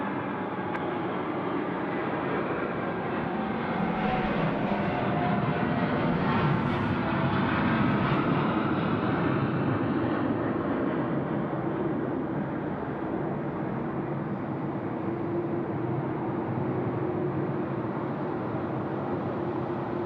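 A Boeing 787 departs Sydney Airport at night, its engines a steady, broad jet roar heard from some distance, sustained and even throughout, with no voices over it.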